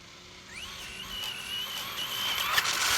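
A Traxxas Slash 2wd RC car with RPM suspension arms and TQi system whines past, its high electric motor pitch rising as it approaches and sustaining at moderate distance outdoors.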